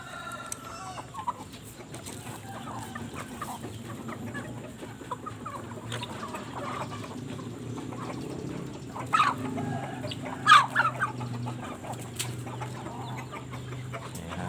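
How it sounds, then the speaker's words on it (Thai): Chickens cluck softly and intermittently at a distance while being fed, over a steady low background hum, with a few louder calls midway. "มาให้อาหารไก่ครับ ก่อนจะไปทำงานนะครับ"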